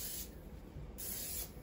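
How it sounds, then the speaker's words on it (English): Cooking spray from an aerosol can misted onto a waffle iron, two short hissing bursts close up, quiet and without voices. "So you're going to take and just spray your waffle iron."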